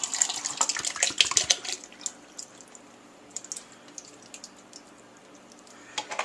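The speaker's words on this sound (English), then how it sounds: "I'm going to go ahead and add the rest of this V8 juice." V8 juice poured into a pot of chili, heard as a short burst of liquid splashing at the start, then a few faint drips and clinks in a quiet kitchen.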